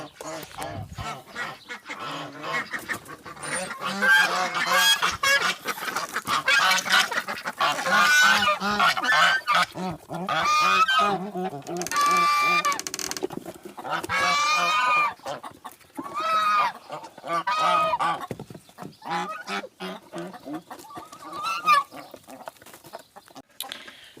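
Domestic geese honk repeatedly at close range, loud and overlapping, with clucking fowl and ducks calling around them in a farmyard.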